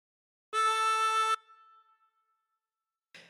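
A single sustained harmonica draw note on hole 3, bent down to A, steady and loud for under a second before a brief fading tail, followed by silence and a short breathy noise.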